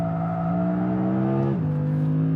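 Audi R8 sports car accelerating hard in a drag race against an RS e-tron GT, a loud steady engine howl climbing in pitch, then dropping briefly at a gear shift before pulling again.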